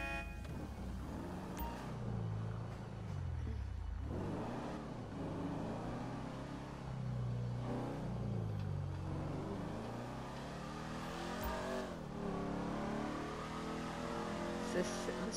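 A straight-piped car in the video game GTA V, its engine droning and revving up and down in rising and falling sweeps. It runs steadily throughout, with a person talking over it.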